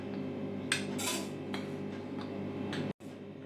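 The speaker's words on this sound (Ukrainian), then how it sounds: "16 ложок цукру. Додаємо ось до кастрюлі." Several sharp metallic clinks of a spoon against a pot as sugar is spooned in, irregularly spaced over a steady background hum, with a brief drop to near silence near the end.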